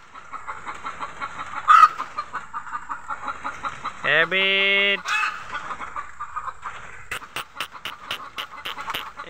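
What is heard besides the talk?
chickens clucking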